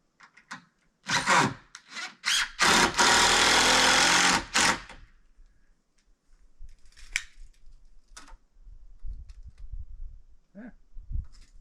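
A power drill fastening roof purlins whirs in a few short bursts and then one longer run, loud and close, followed by quieter handling knocks and scrapes.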